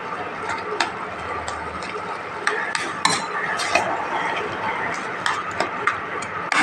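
Mocha ghonto, a banana flower curry with whole cumin, being stirred in a pan: a spoon scrapes and taps the pan in irregular strokes over a soft background hiss, moderately close and fairly quiet.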